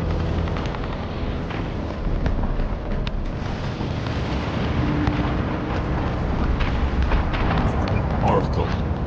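Missile strikes explode across Arkham City in the Batman Arkham City video game, heard as a heavy, continuous roaring rumble with scattered booms and impacts.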